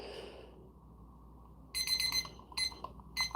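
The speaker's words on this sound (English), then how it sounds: "You're going to hear a beep." After a quiet stretch, a bright electronic timer beeps in short pulses, a long beep followed by two quicker ones, loud and close.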